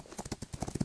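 Horse hooves clip-clop in the Rival Stars Horse Racing game, a quick run of close, distinct hoofbeats in an irregular trotting rhythm lasting under a second, with no talk.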